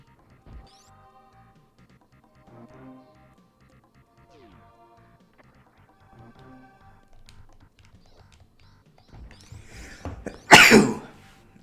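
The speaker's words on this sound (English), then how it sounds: "I sneezed." A single sharp sneeze near the end of a quiet stretch of game sounds from a Super Metroid run, loud and close after faint background beeps.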